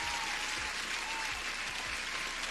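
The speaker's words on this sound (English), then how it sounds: "Honestly, Thomas, let me give you an applause." Faint, steady applause with a dense, even texture throughout, sounding distant with a low background hum and occasional soft thumps.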